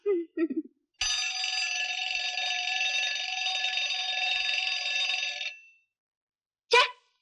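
An electronic alarm rings continuously for several seconds, a shrill steady tone, with a brief voice before it and a short chirp after it stops.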